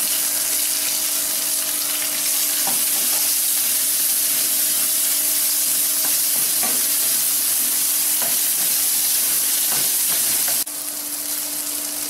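Asafoetida, chili, ginger and shallots fry in a pan with fried urad dal for a radish chutney, making a loud, continuous close sizzle with faint stirring taps and a slight drop in level near the end.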